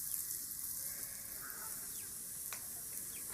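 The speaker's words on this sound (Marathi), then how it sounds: "कांदा चांगला लाल तळून घेऊ आपण." Onions frying in a pan with salt for a village-style mutton curry make a soft, steady sizzle and hiss. A few faint scrapes of stirring are heard and nobody speaks.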